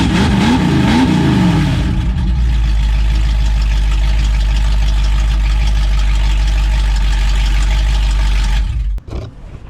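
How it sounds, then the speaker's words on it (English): A 1968 Mustang V8 with open headers and an X-pipe, no mufflers, cranks and fires, then settles into a loud, lumpy rumbling idle close by before cutting off abruptly near the end. "Let's hear what this thing sounds like open headers with X-pipe on."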